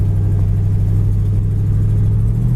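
A 1972 Buick Skylark GS convertible engine pulling hard as the transmission kicks down, a loud, steady low drone from inside the car that holds strong for the whole stretch.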